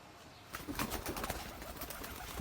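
Pigeons cooing on a rooftop loft, including a Black Beauty and a Red Iceberg, with soft, low coos and some flutter-like rustling over steady outdoor hiss, moderately close.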